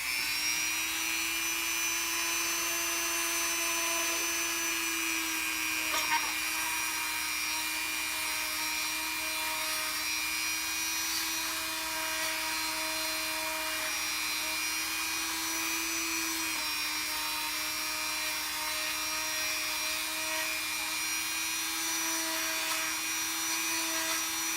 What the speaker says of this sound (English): we're going to drill out these little holes right here, and then I'll probably just cut out this main section